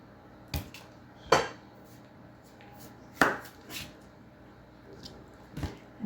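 Knife chopping an English cucumber into bite-size pieces for a summer side dish, a handful of separate sharp cuts against a board spaced irregularly, close and fairly quiet with no talk.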